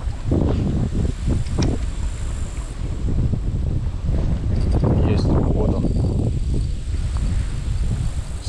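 Strong wind buffets the microphone with a steady low roar and gusty rumble throughout, with no voices.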